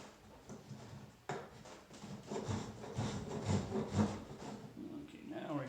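A hand blade shaves curls of wood while a small bench is shaped, giving a run of scraping, rasping strokes of uneven rhythm, close and moderately loud, with a sharp knock partway through.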